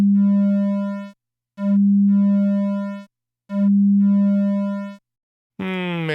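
Three sustained, buzzy tones from a clipped sine wave in Pure Data, with strong harmonics, each fading slightly before cutting off, separated by short silences, then a brief sweeping tone.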